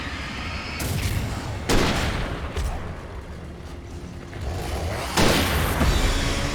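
Gunshots in the video game Alan Wake: several loud, booming single shots spaced a second or two apart over a steady rumbling background, without talking.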